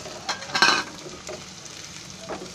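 Carrots sizzle in onion, ginger and garlic paste in a pan, with a few soft scrape-and-stir bursts over a quiet frying crackle.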